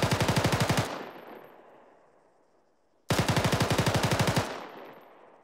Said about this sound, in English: So a cyclic rate of fire for the SAW, going to sound something like this.